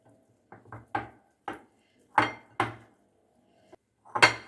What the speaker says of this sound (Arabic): غادي نخلطها مزيان